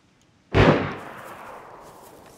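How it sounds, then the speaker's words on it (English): A single sharp gunshot rings out in the DayZ video game, with a loud crack followed by a long, fading rolling echo, and nothing else audible. "Yeah, these shots going off."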